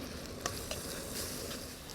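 Crispy pork and vegetables stir-fried in sauce at a Thai cooking session, a steady close sizzle with a couple of faint utensil clinks, no talk.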